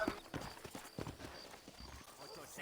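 Horse hooves clip-clop in a steady trotting rhythm while riding in the western video game Red Dead Redemption, moderately loud, with someone talking over the footfalls throughout.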